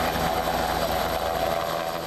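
An air ambulance helicopter sounds as a continuous droning engine and rotor hum, with steady tonal whine over a broad mechanical noise floor and no talk.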